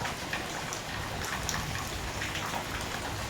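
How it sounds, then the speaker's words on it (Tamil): Steady rain pours down, a dense continuous hiss of drops striking surfaces with scattered louder patters, no voices. "மழை நன்றாக பெய்கிறது"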